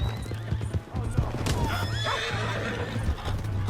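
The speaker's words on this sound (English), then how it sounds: "Hey, that's my horse!" A horse whinnies loudly in the Red Dead Redemption 2 video game while hooves clip-clop steadily underneath. Voices and game ambience run throughout.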